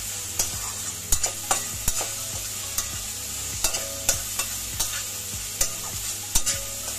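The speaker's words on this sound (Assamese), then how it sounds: "আলুখিনি আকৌ অলপ মচলাৰ লগত ভাজিম।" Potatoes frying with spice masala in a pan in a home kitchen, a steady sizzle broken by regular scraping knocks of a spatula as the pieces are stirred, close and alone with no talk.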